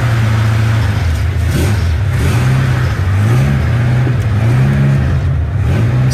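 Heard from inside a 1972 Toyota Celica while driving, the engine drones loudly and steadily, rising in pitch through several accelerations and gear changes, close and continuous.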